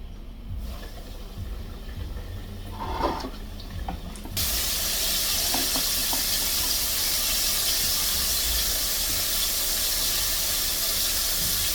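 Second batch of chicken frying in a pot of oil for Jamaican-style barbecue fried chicken: after a few seconds of quiet kitchen clatter, a loud, steady, close sizzle starts abruptly and hisses on without a break.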